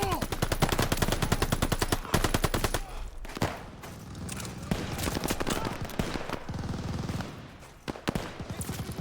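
Rapid machine gun bursts and scattered gunfire from a Call of Duty Vanguard trench battle, loud and dense with sharp repeated shots for several seconds, then sporadic single cracks amid rumbling battlefield noise.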